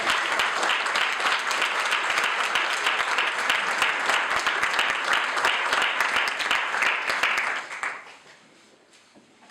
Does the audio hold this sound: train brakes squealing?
no